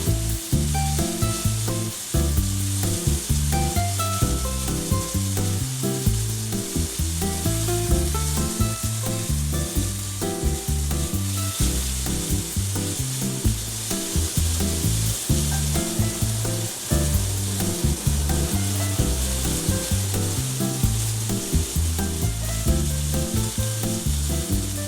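Flat iron steak sears loudly over very high heat, a steady, dense sizzle and crackle running unbroken throughout with no voices.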